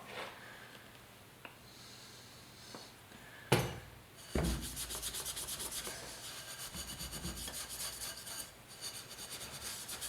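Hand rubbing down the wheel and fender of a 1974 Yamaha RS100 motorcycle, a close, steady scratchy scrubbing that begins after a couple of sharp knocks and continues evenly to the end.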